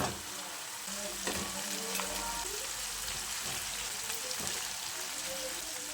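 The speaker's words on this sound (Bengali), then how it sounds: "ভাজা আলুগুলো দিয়ে মশলার সঙ্গে খুব ভালো করে নেড়ে চেড়ে মিশিয়ে নিতে হবে" Potatoes fry in spices for a vegetable paneer biryani with a steady close sizzle, broken by occasional scraping and knocking of a spoon as they are stirred.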